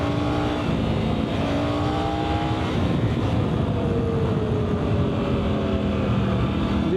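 Triumph Tiger 900 GT triple-cylinder motorcycle engine pulls hard through the gears, its steady roar rising in pitch, dropping at a shift, then climbing again, loud and close throughout.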